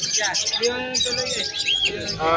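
Yellow face opaline pet birds chirp and tweet in quick, busy bursts at a pet market, with someone talking over the crowded calls.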